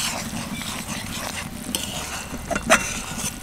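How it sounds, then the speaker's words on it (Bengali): Coriander-leaf pickle masala with slit green chilies being sautéed in a pan over low-to-medium heat, giving a steady close sizzle with scraping stirs and one sharper clink near the end. "এবার এটাকে ভালো করে কষিয়ে নেব।"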